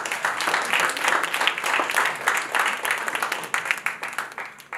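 An audience at a mental health talk claps in steady, dense applause throughout, moderately loud and sustained with no voices over it.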